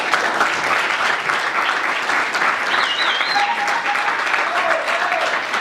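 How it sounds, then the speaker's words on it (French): Steady, dense applause from a student audience for candidates in a televised student union election debate, continuous clapping with a faint whistle or squeak riding on top. "Je pense que nous pouvons applaudir de nouveau ces candidats."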